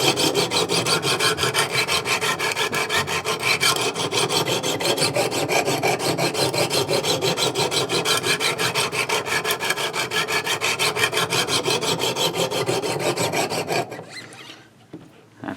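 Sharpening an S35VN steel knife blade on a Wicked Edge Go guided system: a continuous, close, even raspy rubbing of stone over steel with rapid regular strokes, stopping near the end.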